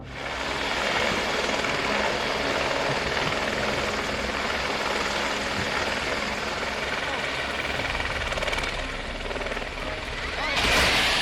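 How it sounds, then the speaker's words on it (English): A helicopter in the Dominican Republic coming down in a cornfield in strong headwind, with a rotor striking the ground. A loud, continuous rotor and engine roar fills the whole stretch and surges briefly near the end. "a helicopter crashed when one of its propellers struck the ground"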